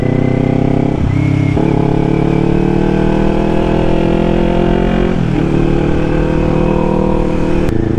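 A Kawasaki Ninja 400 motorcycle on an open road ride, its engine droning loud and close with steady revs, briefly dipping at gear shifts around the start and middle before climbing again.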